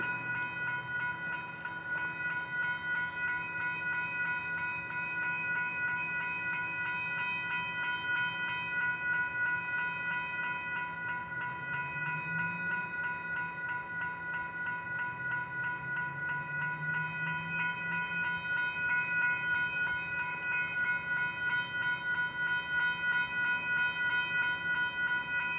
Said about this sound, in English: Southbound intermodal. No, freight. No, intermodal, I believe, actually.